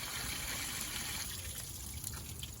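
Clean water pours and trickles steadily out of a Chevy S10 heater core hose during a flush, a continuous faint splashing flow outdoors.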